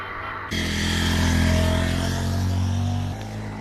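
A Bajaj CT 100 motorcycle climbs a hill road, its engine a steady, fairly loud drone with a low hum that holds for about three seconds before easing off. No one speaks.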